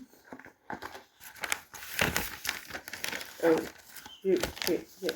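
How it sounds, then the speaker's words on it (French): Gift wrapping paper crinkles and rustles in short handled bursts as a present is wrapped, close and fairly soft, with a voice speaking over parts of it. "On va emballer le cadeau gênant."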